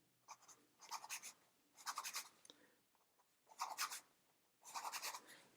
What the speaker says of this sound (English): Now let's try some quick writing.